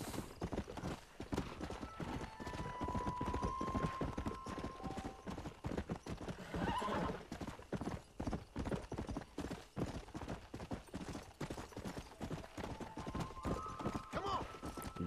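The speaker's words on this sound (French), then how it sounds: "Grosse pointe de vitesse du cheval." A horse in the Western video game Red Dead Redemption gallops with loud, continuous rapid hoofbeats, and brief whinnies rise over the running rhythm, with no talk heard.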